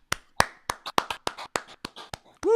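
A single person clapping hands about ten times in a fairly steady rhythm, sharp close claps with brief gaps, ending as a voice begins.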